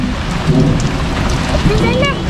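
Heavy rain pours steadily during a thunderstorm in Central New York, a dense continuous hiss with low rumbling underneath, and a voice speaks faintly over it.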